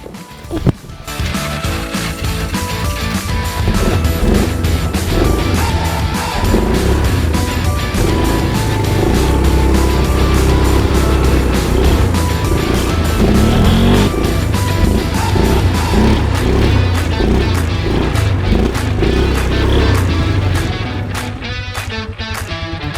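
Four-wheeler with a mini Jeep being driven around, a loud steady engine drone with rough, revving variation throughout, close to the listener, fading slightly at the end.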